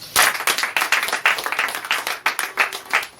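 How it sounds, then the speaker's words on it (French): Church congregation clapping and applauding in a lively, uneven burst of many hands, close and loud, with brief vocal sounds mixed in. "On acclame le Seigneur pour lui."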